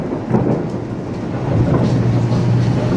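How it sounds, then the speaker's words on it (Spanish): Low rumbling thunder rolls steadily beneath a constant wash of rain in Siloé, Cali, near an aerial cable car, dense and fairly loud, with no talking. "escucho los truenos y llueve en Siloé"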